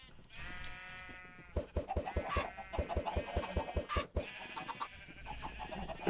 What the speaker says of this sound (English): three more chickens.